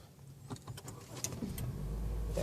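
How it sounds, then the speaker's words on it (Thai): A 2014 Honda Jazz (GK) SV automatic starts with the brake pressed: a few light clicks and rattles, then the engine catches and settles into a steady low idle close by. "ผมจะเหยียบเบรกแล้วสตาร์ทเลยนะครับ"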